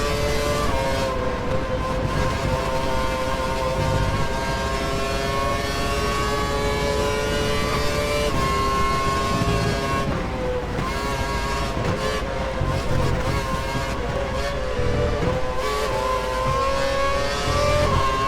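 A Formula 1 race car from the F1 2012 video game screams at full revs during the British Grand Prix at Silverstone, a steady, loud, high-pitched engine whine that holds continuously throughout with slight pitch shifts.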